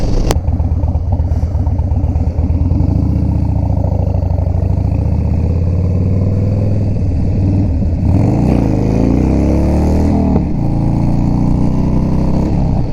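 Harley-Davidson Dyna motorcycle ridden and accelerating, a loud close engine drone throughout that rises and falls through several throttle surges, with wind noise and no talking.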